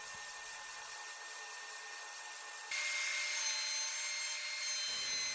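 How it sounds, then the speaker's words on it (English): An oscillating spindle sander works inside curves of a wooden shelf piece, giving a continuous close rubbing hiss with a faint pulsing rhythm, the pitch shifting as the wood is pressed harder midway. "Then I use the oscillating spindle sander to clean up those inside curves"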